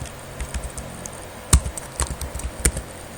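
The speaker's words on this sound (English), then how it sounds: "we navigate to our browser and we type localhost" Keys clack on a computer keyboard as an address is typed into a web browser, an irregular patter of light taps with a few sharper, louder strikes, close and alone over a quiet background.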